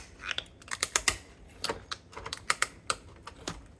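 Kitchen scissors snip through the top shell of a large lobster tail, a series of crisp close clicks and crunches in an irregular rhythm, with no talking.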